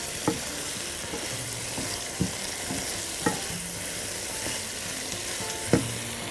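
Chicken cooking in a pan is stirred with a utensil, giving a steady close sizzle and frying hiss broken by several sharp scrapes and clacks against the pan, with no talking.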